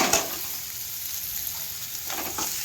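Onions and freshly added tomatoes fry and sizzle in a pan while being stirred, a steady close hiss with a few scraping strokes near the start and end.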